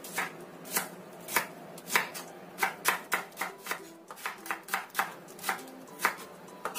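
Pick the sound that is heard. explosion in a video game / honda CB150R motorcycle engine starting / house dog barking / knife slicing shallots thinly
knife slicing shallots thinly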